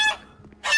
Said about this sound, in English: Now he's playing Goose.